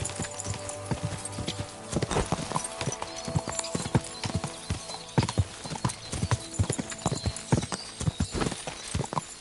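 Horse hooves clip-clop over ground in the medieval video game Kingdom Come: Deliverance 2, a steady close trotting rhythm with scattered louder strikes and faint ambient background.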